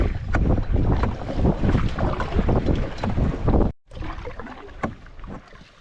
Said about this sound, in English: I'm just paddling through a lot of reeds